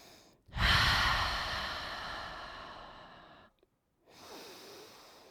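Deep breathing during a short yoga practice, one long audible exhale close to the microphone fading over a few seconds, followed by a brief pause and a softer inhale.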